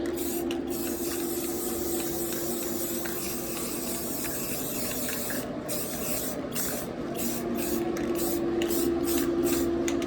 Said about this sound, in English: spray a light coating to kind of keep the color sealed.